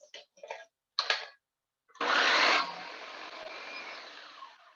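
After a few short clicks and taps, a food processor chopping cauliflower florets roars to life with a loud burst of chopping, then settles into a steady whirring spin.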